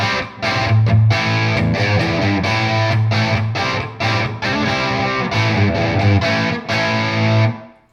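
Electric guitar played through a hard rock amplifier set to a lower-gain, plexi-like crunch: loud, continuous distorted chords and riffs with short breaks, close and alone without talk, ending abruptly.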